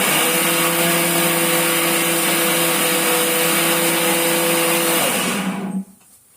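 A mixer grinder whirs loudly and steadily as it purees tomato, small shallots, ginger, garlic and green chili into paste, a high motor whine with a constant tone before it winds down and cuts off near the end.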